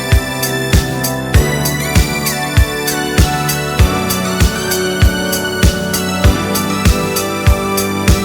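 A programmed drum pattern in an 80s pop style, with punchy kicks thumping in a steady, evenly spaced rhythm under a busy bright top and a melodic backing, playing alone without any talk.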